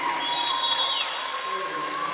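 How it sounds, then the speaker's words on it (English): Crowd applause in a gym at a women's college volleyball regional playoff match between BC and San Diego Mesa, a steady, even wash of clapping and murmur heard from a moderate distance. "that applause you hear, I think, was partly for the point"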